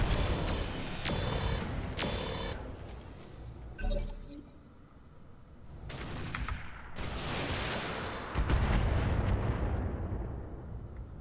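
Gunfire and artillery in the tactical shooter game Roguepoint, loud dense bursts of shots, shattering impacts and heavy booming explosions rolling one after another with no pause.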